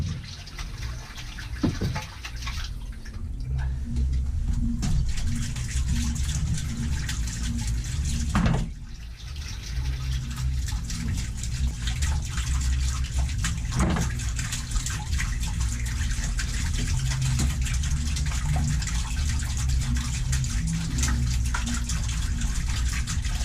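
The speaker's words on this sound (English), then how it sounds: "that's a lot of water coming in through the water pump inlet, basically a giant hole in the bottom of the boat." Water gushes hard into an old houseboat through the water pump inlet hole in the bottom of the hull. The close, loud roar of rushing water stays continuous and steady throughout, with occasional splashes and knocks.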